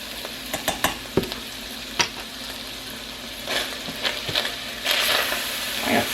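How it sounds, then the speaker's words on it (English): Food with powdered cumin frying in a pan is stirred, producing a constant close sizzle punctuated by several sharp scrapes and taps of a utensil against the pan. "I gotta stir that."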